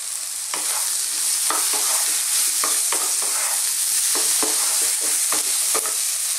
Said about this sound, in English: we don't want to burn our powders now, so make sure you are stirring